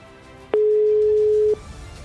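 A single steady ringback tone from an outgoing telephone call sounds for about a second, loud and clean against a quiet background hiss.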